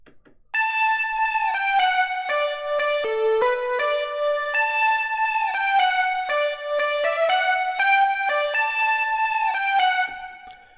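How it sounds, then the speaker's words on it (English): A bright synth lead in FL Studio plays a melodic run of sustained harmonic notes with a long reverb tail, dense and continuous for about ten seconds, with no voices. "if we listen to the lead and the two reverbs together"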